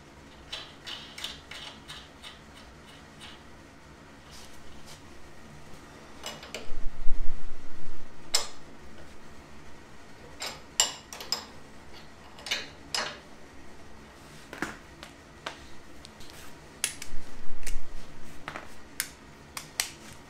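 Nuts are tightened by hand tool on a dune buggy's front suspension, close, sharp metallic clicks and ratcheting bursts coming in irregular clusters with pauses between, no talking.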